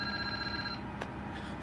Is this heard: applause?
no